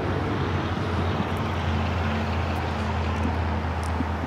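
A Bombardier Global 7500 business jet at Los Angeles International Airport gives off a steady, heavy low rumble, loud and continuous, with traffic-like broadband roar and no talk over it.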